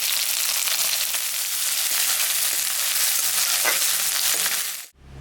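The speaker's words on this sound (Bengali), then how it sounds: "পেঁয়াজটা ভাজা ভাজা হয়ে গেছে" Chopped onion, garlic and green chillies frying in a pan, a loud continuous sizzle with faint stirring scrapes that cuts off abruptly near the end.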